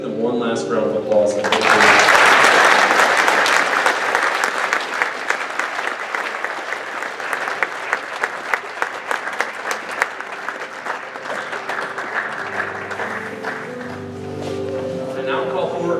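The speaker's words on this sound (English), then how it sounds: "Let's give them one last round of applause." A full round of applause fills the room at an FFA chapter banquet: many hands clapping loudly and steadily for about twelve seconds, with someone speaking just before it swells and again as it fades.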